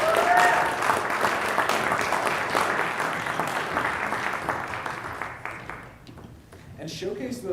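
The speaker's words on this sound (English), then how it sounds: "everyone give it up for our stars of the evening" A crowd at a premiere party applauds and cheers, dense clapping that gradually thins out, with a voice talking over the noise.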